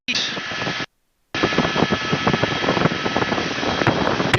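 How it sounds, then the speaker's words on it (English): A helicopter taking off from a runway near a beach: a steady, loud whooshing engine roar fills the clip, briefly cut to silence near the start, with fluttering rotor pulses throughout. "Runway takeoff on a helicopter."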